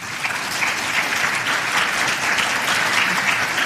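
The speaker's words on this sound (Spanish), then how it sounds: "Yo le voy a pedir a ustedes que le den un aplauso a este panel." Warm applause from a seated audience for a panel on freedom of expression and electoral reform, a dense even clapping that continues steadily without pause.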